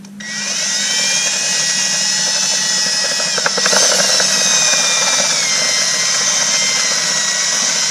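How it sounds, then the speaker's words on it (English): A power drill spins up and bores steadily into a small wooden salt cellar, making magnet holes. There is a high, even whine with a brief catch midway as the bit bites, then it continues smoothly. "So now I just need to mark and drill my spot where I want both of these magnets to sit."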